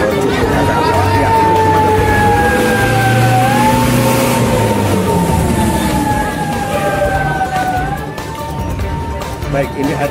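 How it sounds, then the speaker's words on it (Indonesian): Fire engines arriving at a flea market fire in Tegal, their sirens wailing loud and close in long rising and falling sweeps over traffic rumble and crowd noise. "ini adalah pemadam kebakaran yang kemudian silih berganti untuk terus memadamkan api"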